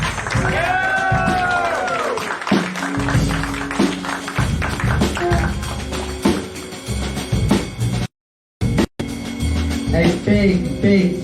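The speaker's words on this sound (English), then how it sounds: "A big, huge, enormous round of applause for Ron Wiessner standing at the back" Audience applause and cheering for the musicians, including a saxophonist and double bassist, at a live show, a dense, loud wash of clapping mixed with crowd noise and some talk, with a brief dropout near the end.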